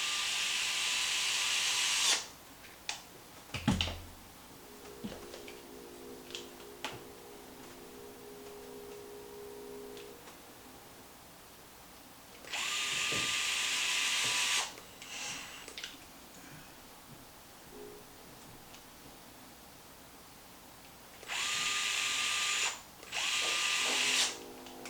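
A power driver runs three screws into a Traxxas Maxx spur gear in three separate whirring bursts of a couple of seconds each, close and loud, with small clicks and handling noises in between.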